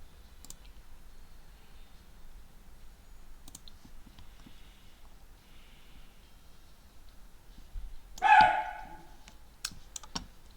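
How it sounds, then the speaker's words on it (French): A dog barks once in The Sims 4, a sharp game sound effect near the end, set against scattered mouse and keyboard clicks in a quiet room, with no talking. "J'en ai marre de la chienne qui aboie pour rien."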